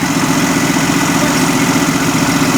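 A diesel engine idles steadily after a cold start, a loud, close, even rumble with a fine rhythmic chug and no talking.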